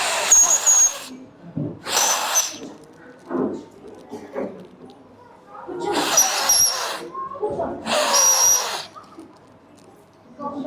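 Children at an anganwadi centre blow several loud, breathy bursts of whistling, in two pairs with pauses between them. An adult speaks in the gaps.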